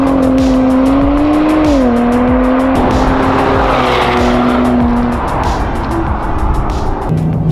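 A 2024 Nissan Nismo Z in Sport Plus mode roars loudly under hard driving as its engine pitch rises and dips, with tires squealing throughout.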